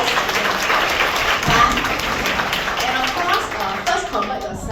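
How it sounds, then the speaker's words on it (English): An audience at a motivational business talk breaks into a dense, sustained round of applause, loud and close, with crowd noise mixed in throughout. "So let's give a round of applause for you guys"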